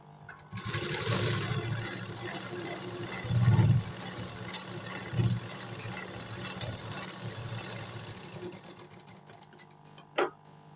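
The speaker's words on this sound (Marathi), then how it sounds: "आता ह्याला मी दाब शिलाई मारणार आहे." A sewing machine stitching a lining onto a sleeve, its motor whirring in steady runs with short louder bursts and pauses between, close and clear with no talk.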